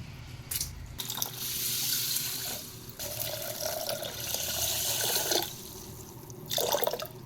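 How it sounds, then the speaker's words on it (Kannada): Two glasses of water gush and splash into a cooking pot for horse gram bassaru, close by, in several separate pours with short pauses between them and no talking. "ಎರಡು ಗ್ಲಾಸ್ ನೀರು ಹಾಕ್ತಾಯಿದ್ದೀನಿ"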